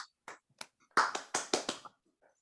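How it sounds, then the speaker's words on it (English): A brief round of hand clapping at a Toastmasters meeting: a few scattered claps first, then a short burst of several people clapping together, tapering off quickly in a quiet room. "Let's give him a big round of applause"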